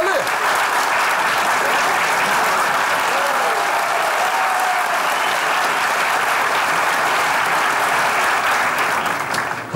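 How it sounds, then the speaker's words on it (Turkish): A studio audience at a Turkish comedy stage show applauds in a steady, loud wash of clapping that holds evenly for nearly ten seconds without a break. "O zaman hocam, dilerseniz özel kalem müdürümüz Salih Bey gelsin alkışlarla"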